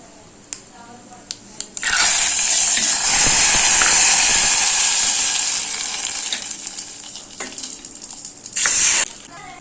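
A pot of sambar boils hard with a loud, steady hiss and bubbling that gradually softens, then flares up briefly near the end.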